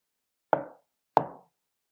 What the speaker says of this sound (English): knocks on the door.